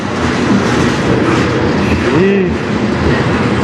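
A CN freight train passes on the Strathroy Subdivision in Sarnia, a loud, close, continuous rumble of rolling cars with a brief spoken exclamation over it.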